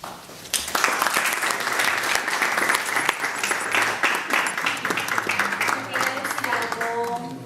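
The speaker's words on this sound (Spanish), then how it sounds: "Yo les pediría un aplauso" A crowd at a political discussion gathering (tertulia) on democratic opening and participation breaks into loud, sustained applause that starts suddenly and rolls on evenly, with a voice speaking over the clapping toward the end.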